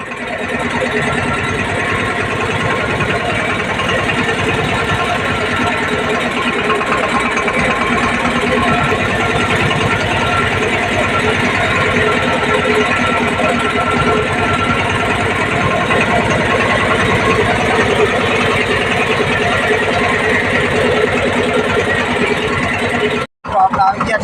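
A tractor's loud, steady engine drone runs throughout while off-roading, continuous and close, with a brief cut near the end.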